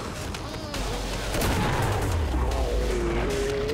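Gunfire and heavy booms from a grenade launcher in the Killing Floor shooter game fill a dense, continuous battle din, with rumbling low blasts swelling midway and whining sounds sweeping across, a voice faintly underneath.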